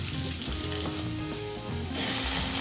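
Cumin and chopped onions fry in hot oil in a kadai for paneer lababdar, a loud, steady, close sizzle crackling throughout with no talking.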